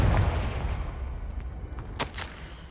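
A Confringo blasting curse fires in Hogwarts Legacy, a low rumbling boom with a sharp crackling burst near the end, loud and close, with no talk over it.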